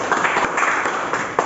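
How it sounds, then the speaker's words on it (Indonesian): Steady broadband clapping from a vocational class of students filling a brief moment, dense and continuous at moderate level. "Oke, berikan tepuk tangan"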